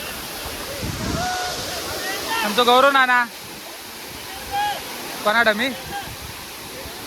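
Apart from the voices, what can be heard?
Savatkada waterfall at Rajapur, Konkan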